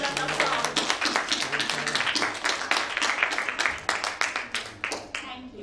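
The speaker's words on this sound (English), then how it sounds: "let's have a big round of applause" Audience round of applause at a business talk on generosity, dense overlapping claps held steady throughout, close and lively with no voice on top.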